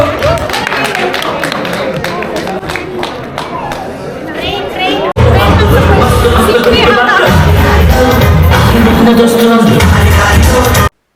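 A crowd claps and cheers loudly at a Kannadiga get-together in the UK after a correct quiz answer, with dense sustained applause filling the second half over earlier chatter and music.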